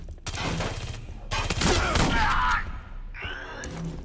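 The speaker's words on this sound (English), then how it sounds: "Shooting at me with them fancy turrets there?" Turret gunfire in the video game Aliens: Colonial Marines: rapid automatic bursts with heavy thuds, loud and close, in two main volleys separated by a short pause, followed by a fainter trailing sound.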